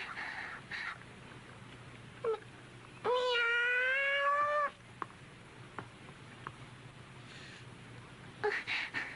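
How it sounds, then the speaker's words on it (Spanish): A house cat gives one long, clear, rising-and-falling meow in a quiet indoor scene, with a few faint knocks and small noises around it. "No es nada, es el gato."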